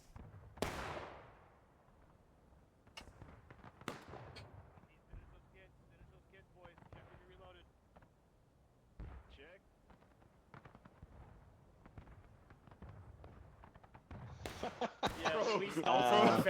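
Captured artillery guns fire in the War of Rights game: a few heavy booms early on, then scattered gunshots and a dense burst of loud firing near the end, with people talking throughout.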